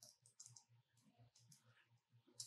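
Quick bursts of typing on a computer keyboard while building a pivot table in Excel VBA, soft close clicks in short irregular runs with brief pauses, quiet room and no speech.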